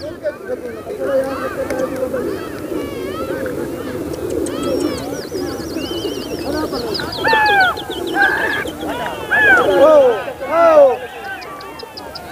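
Domestic pigeons at a rooftop pigeon-keeping spot cooing in repeated soft, rising calls alongside flapping and scuffling, with someone talking throughout.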